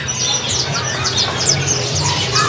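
Caged songbirds at a kiosk in Pramuka bird market chirp and tweet in a dense, overlapping chorus, close and lively throughout with no talk.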